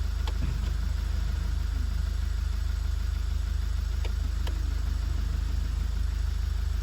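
A Toyota Avensis engine runs at a steady idle after a repair for a fuel pressure fault, a low, even rumble heard close throughout with a few faint clicks and no speech.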